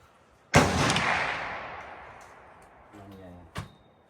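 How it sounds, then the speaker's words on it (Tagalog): A single loud gunshot at a target shooting match cracks out near the start and rings into a long decaying echo, followed a few seconds later by a brief mechanical rattle and a sharper click. "Ito ang kanyang unang putok."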